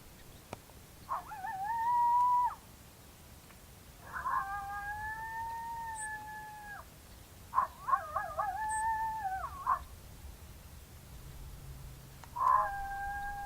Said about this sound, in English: And now we'll go to male howl,